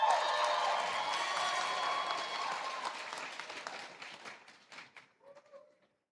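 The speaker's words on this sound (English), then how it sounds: "Come on, let's give her a round of applause." An audience at a medical school induction and awards ceremony claps in a dense, full round of applause that slowly thins over several seconds into a few scattered, fading claps before silence.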